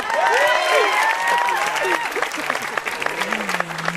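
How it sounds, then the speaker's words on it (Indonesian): Audience applause and cheering at a televised stand-up comedy show, a dense wash of clapping from a live crowd that stays loud, then thins slightly as a host's voice comes in over it. "tepuk tangan sekali lagi buat Semi Not a Slim Boy"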